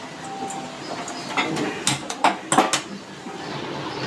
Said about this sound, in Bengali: এবার আমি কড়াইটা গ্যাসে বসিয়ে দিয়ে গ্যাসটা ধরিয়ে দিচ্ছি।